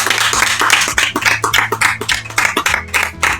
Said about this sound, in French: Merci d'applaudir le super-héros de la gênance